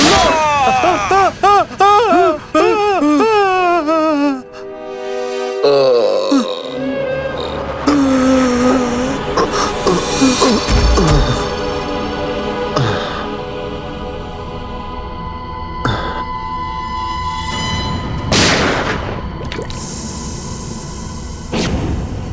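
Gunshots ring out during a scene from a Bengali CID TV drama, a few sharp cracks scattered among dramatic music and raised voices.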